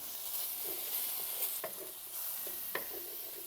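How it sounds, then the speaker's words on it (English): Onions and sausage sizzling in a pan as it is deglazed, a steady hiss with occasional sharp spatters and utensil taps. "Deglaze this pan one more time here."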